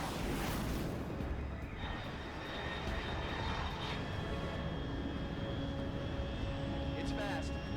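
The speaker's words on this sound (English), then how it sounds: "Unidentified aircraft detected." A fast aircraft roars with a loud, steady engine drone throughout, set in the Metal Gear Solid 3 Delta video game, while a voice speaks over the noise.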